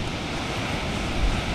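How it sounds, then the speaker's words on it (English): Ocean waves crash and surge steadily at a foggy spit, a loud continuous wash of surf with wind noise buffeting the microphone throughout, no voices. "we got some wicked waves over here"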